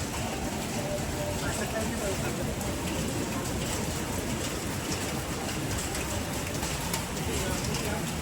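Steady rain falls around a small roadside temple, a dense, even hiss with pattering close by that continues without a break for the whole stretch, and no voices cut through it.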